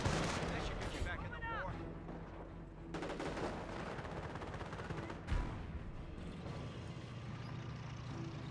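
Battle in Company of Heroes, the World War II strategy game, as a Panzer IV fires on an infantry squad: a dense mix of gunfire, heavy cannon blasts and machine-gun rattle under a steady rumble, with one sharp loud impact in the middle.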